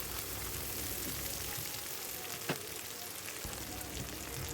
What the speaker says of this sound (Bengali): এখন এর মধ্যে পরিমাণ মতো একটু ঘি দিয়ে দিলাম